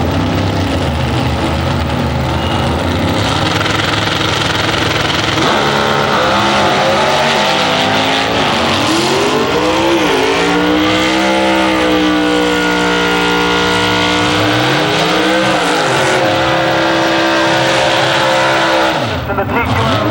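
Drag race cars at an early-2000s IHRA event in Farmington, including a C-altered Beretta, a dragster and Pro Mods, roaring loudly throughout with rising and falling engine sweeps as they launch and run the strip, under a PA announcer's voice.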